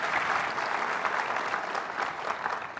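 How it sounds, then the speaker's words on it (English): At a San Francisco ad:tech conference session, an audience breaks into steady, dense applause to welcome a speaker onstage, a continuous wash of many hands clapping at moderate volume with no voices. "Please give Wendy a really welcome round of applause"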